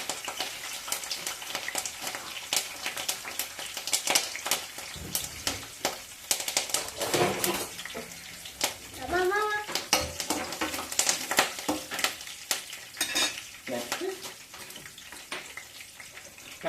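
Green chilies and onions frying in oil in a pan for a Telugu tomato curry, with a steady dense sizzle, scattered stirring clatter and crackles throughout, no talking.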